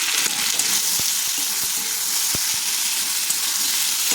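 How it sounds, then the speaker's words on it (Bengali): Potatoes fry in a pan while being browned, giving a steady close sizzle with a few soft knocks and scrapes from stirring. No one speaks. "আলুটা দেখে একটু লাল লাল করে ভাজবো।"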